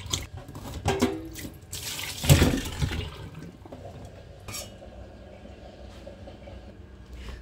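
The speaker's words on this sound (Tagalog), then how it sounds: "After natin i-slice yung potito, guys, uhugasan natin siya para malinis" Sliced potatoes are rinsed under running water in a kitchen sink, with splashing and a steady tap flow that peaks early and then settles into a softer, continuous trickle.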